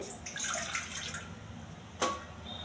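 A little water is poured into a pot on the stove, giving a soft, brief splashing hiss followed by a single small clink, all fairly faint.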